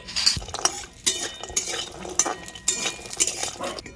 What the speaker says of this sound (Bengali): আমি একটু বড়িগুলো ভেজে নিচ্ছি।